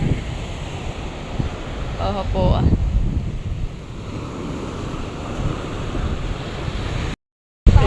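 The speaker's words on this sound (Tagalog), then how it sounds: "malalaki po talaga yung alon." Big sea waves wash onto a beach in a steady broadband roar with wind buffeting the microphone, while a voice speaks briefly partway through.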